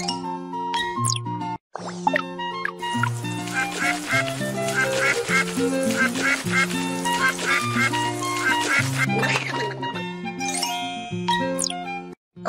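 A cartoon duck quacks repeatedly in a children's first-aid animation, the rhythmic nasal quacks running over bright tinkling, chiming music that fills the whole stretch without speech.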